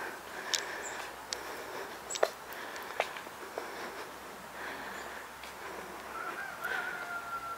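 Chickens at a barn in a mountain village in Switzerland: faint scattered clucks and short calls over a steady outdoor hiss, with a thin high cry near the end.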